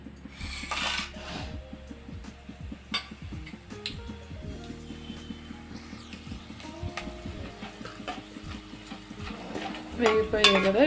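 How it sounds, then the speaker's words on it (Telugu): Dried red chillies and tempering seeds fry in hot oil for a mushroom masala gravy, a soft sizzle under frequent metallic clinks and scrapes of a spoon against the pan, growing louder near the end. "ఆయిల్ వేడైందండి. ఎండుమిరపకాయలు,"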